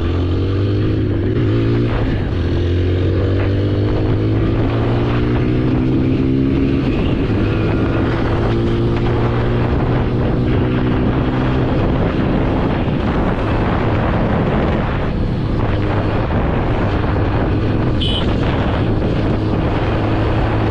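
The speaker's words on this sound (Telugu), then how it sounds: "ఇప్పుడు హైవే మీద అగ్రెసివ్గా నడుపుదాం, పర్ఫార్మెన్స్ ఎలా ఉందో చూద్దాం" A TVS Apache RTR 160 4V motorcycle ridden hard on a highway, its engine droning loud and steady with rising and falling gear tones under heavy wind rush for the whole stretch.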